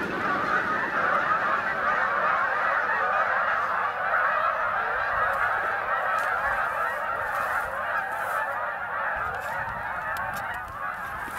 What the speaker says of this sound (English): A lot of geese.